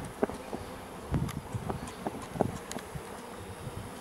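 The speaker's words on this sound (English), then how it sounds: "Oh, there's bees everywhere." A swarm of bees buzzing around an open hive on an organic farm, a dense hum with individual bees darting close past, plus a few soft rustles and thumps of handling nearby.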